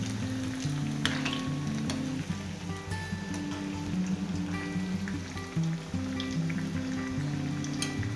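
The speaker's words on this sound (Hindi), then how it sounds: "इस तरह से हम डीप फ्राई करेंगे।" Colocasia leaf patra rolls deep frying in hot oil, a constant crackling sizzle with scattered pops, with a few background tones and no speech.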